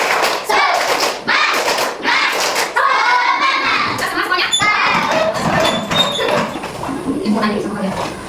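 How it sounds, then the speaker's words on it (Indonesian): Schoolchildren in a classroom performing a rhythmic clap chant, sharp bursts of hand claps mixed with sung and shouted voices, loud and close with busy room noise. "tepuk semangat"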